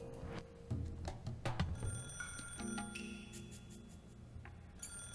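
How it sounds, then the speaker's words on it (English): Telephone ringing in the Higurashi video game, a repeated electronic bell ring, loud and close, sounding on its own with no voices. "As soon as I put the phone down, it rang again."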